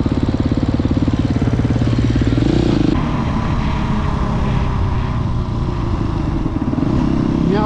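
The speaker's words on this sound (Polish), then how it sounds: "O, tam motocyklista jechał." A motorcycle going by, its loud, rough engine drone filling the whole stretch with rising pitch sweeps as it passes, over a constant heavy engine rumble.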